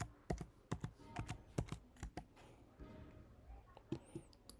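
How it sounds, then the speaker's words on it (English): Quiet, close computer mouse and keyboard clicks while a circuit is built in MATLAB Simulink, coming in a quick irregular series of light taps with no talk. "Just click and drag it like same."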